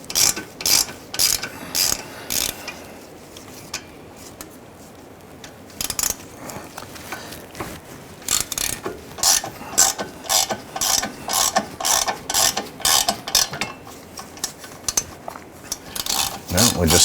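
A ratchet on lug nuts of a 1999-2004 Jeep Grand Cherokee gives rapid metallic clicking in repeated bursts with short pauses, loud and close throughout. No one speaks.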